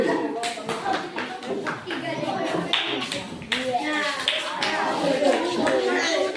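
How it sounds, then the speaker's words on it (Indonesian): Scattered classroom clapping for a student group, uneven bursts of hands mixed with children's chatter and voices talking over it. "Oke, tepuk tangan kelompok 4."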